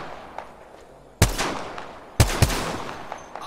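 Two loud, close gunshots about a second apart, fired at a cargo bot in the Apex Legends battle royale game, each sharp crack trailing into a brief decay over a low background hum.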